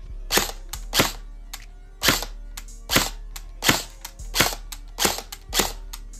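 GameFace airsoft AEG firing single shots over a chronograph outdoors, about a dozen sharp snapping cracks at an irregular, fairly quick pace, each crisp and close.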